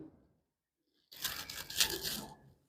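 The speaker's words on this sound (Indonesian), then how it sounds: "Itu bisa slash plastik. Ini plastik." A very sharp razor-like blade slices through plastic, a short crackling, tearing rasp that begins abruptly after silence and lasts just over a second.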